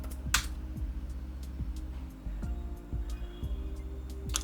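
Someone types a short command on a computer keyboard, a run of close, light, evenly spaced key clicks with no talk.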